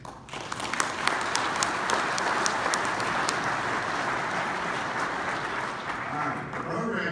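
A conference audience at a panel discussion applauds the panelists, dense steady clapping from a sizeable crowd that holds for several seconds and then begins to thin out.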